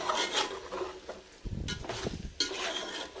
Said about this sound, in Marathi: हे बघा असं कांद्यासकट सगळं हलवून घ्यायचं आहे